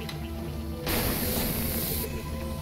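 A fire suppressor spraying in the WildStar video game: a loud, broad hissing spray that starts abruptly, holds for just over a second over a steady game background, then cuts off.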